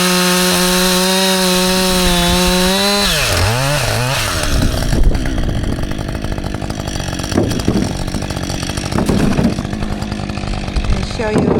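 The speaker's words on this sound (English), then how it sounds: "cutting some more firewood because we already went through the rest" A chainsaw cuts firewood on a snowy homestead. It starts with a steady high engine whine that drops as the chain bites into the wood, followed by rough, uneven sawing close by.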